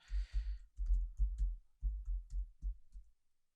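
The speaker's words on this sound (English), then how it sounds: "Let me type that again." Typing on a computer keyboard, close and clear, as a quick burst of distinct key clicks in an uneven rhythm with brief pauses, alone in a quiet room.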